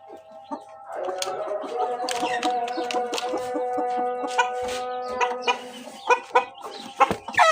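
Close rooster clucking and squawking, a continuous run of calls with sharper clucks toward the end, no speech.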